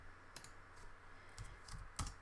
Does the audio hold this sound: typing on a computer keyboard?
yes